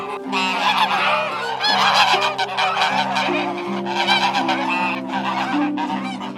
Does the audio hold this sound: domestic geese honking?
yes